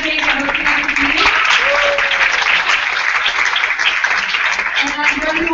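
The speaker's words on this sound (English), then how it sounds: "I invite you to join me in giving one more big round of applause to our honorees" Applause for honorees at a service celebration ceremony, a loud, sustained round of clapping from the audience with voices mixed in beneath it.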